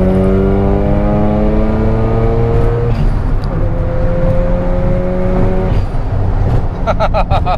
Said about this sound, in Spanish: A ver, pégame un acelerón, a ver. Vamos. ¿Cómo se siente este motor?